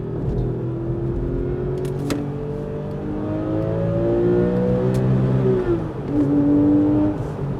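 A Porsche GT3's naturally aspirated 3.6-litre flat-six Mezger engine revs up and down in rising and falling sweeps, loud and close, with a sharp climb near the end and no talk.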